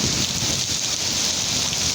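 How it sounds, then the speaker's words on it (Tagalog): Heavy typhoon rain pours down steadily with a constant rushing hiss, wind adding to the dense, unbroken roar, in Naga City, Bicol. "Ulan pa lang po yan na may kasamang hangin."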